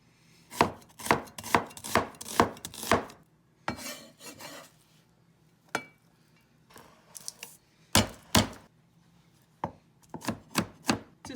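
Knife chopping an onion on a wooden board, sharp rapid taps in quick bursts with short pauses, close and crisp, no talking.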